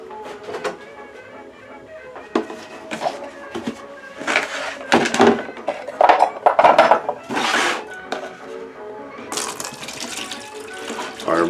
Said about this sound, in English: I am now adding the ammonia to the wash basin.